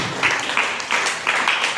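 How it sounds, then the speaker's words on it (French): An audience at a school awareness session on positive masculinity applauds briefly, a steady wash of clapping at close range. "Est-ce qu'on peut applaudir pour Daniel?"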